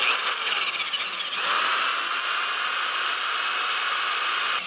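A handheld power drill fitted with an added side handle bores into metal while building a blacksmith's anvil and leg-vise stand, giving a steady, close, high-pitched grinding whine that runs unbroken and swells slightly after the first second.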